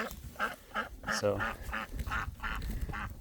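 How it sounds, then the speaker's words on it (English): Ducks on a pasture quacking repeatedly in a busy, overlapping chorus, close and fairly loud, while someone speaks briefly. "ducks are looking for free food."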